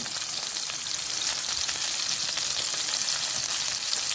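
Gola kabab patties fry undisturbed in hot oil in a pan, giving a steady, close, dense sizzle with fine crackles throughout and no talking.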